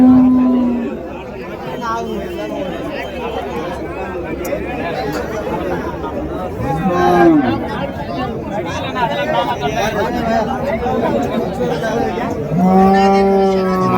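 A Jersey cow moos several times at a busy cattle market. The low calls come close and loud through steady crowd chatter and someone talking.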